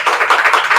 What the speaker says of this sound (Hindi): एक बार उनके लिए जोरदार ताली देता हूँ।